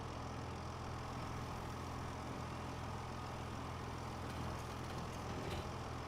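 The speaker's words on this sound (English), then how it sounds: "we're gonna get this tractor going" A tractor engine in Farming Simulator 25 idles steadily as a low, continuous diesel rumble that holds an even level throughout, with no talk over it.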